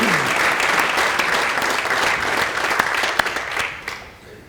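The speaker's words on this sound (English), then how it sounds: "this group deserves collectively another round of applause" A crowd applauds at the St. Joseph Sports 2022 awards ceremony, with steady, fairly close clapping and a few sharper claps that fade out toward the end.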